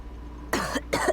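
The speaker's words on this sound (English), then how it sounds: "From the coughing, it ain't too good." A woman coughs in a Genshin Impact game cutscene, giving two harsh, breathy coughs close up after a quiet moment, with a short gap between them.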